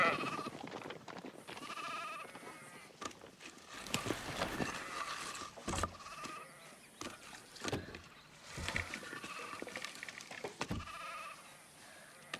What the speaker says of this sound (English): them sheep got you running every which way over there